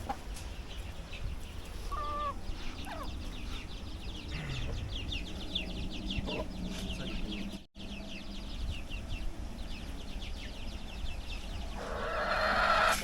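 A rooster calls out agitatedly amid ongoing clucking from nearby chickens, with steady outdoor farmyard noise throughout.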